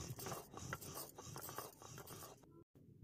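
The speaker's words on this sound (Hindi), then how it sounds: "मसाले को हम सिलबट्टे पे पीसेंगे" A rhythmic, gritty scraping and rolling of stone on stone as spices are ground by hand on a sil-batta grinding stone, steady back-and-forth strokes, close and moderately quiet.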